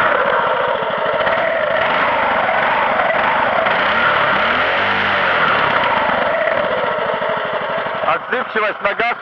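A Muravey 2 motor scooter engine runs close by with a loud, steady buzzing idle, then is revved in a few sharp bursts at the end.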